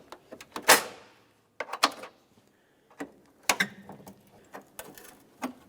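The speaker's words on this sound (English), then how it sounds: "I'm just going to use a 90-degree pick for this so I can gently pry and lift it up." A 90-degree pick works at a plastic headlight tab on a 2002-2005 Ford Explorer, producing a series of close, dry clicks and small snapping ticks in irregular bursts, with quiet pauses and no talk.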